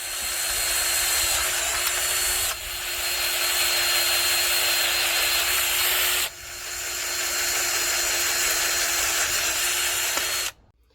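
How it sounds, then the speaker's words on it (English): A power drill whines steadily and loudly in long runs, briefly easing off twice before stopping abruptly near the end. "So let's go outside and drill some holes."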